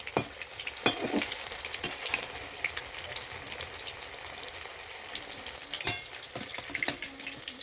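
Steady crackling sizzle of chicken pakoras deep frying in hot oil, with occasional sharp pops and faint utensil clicks, close by and continuous.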